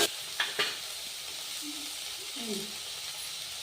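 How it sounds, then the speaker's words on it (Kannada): Tomatoes go into a hot frying pan for a bitter gourd stir-fry, giving a steady low sizzle with a few clinks of a spoon against the pan, close and fairly quiet. "ನೋಡಿ ಟೊಮೊಟೊ ಹಾಕೋಣ"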